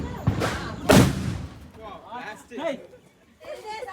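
Two sharp firecracker bangs go off in quick succession at a Diwali celebration, loud and close, followed by people talking.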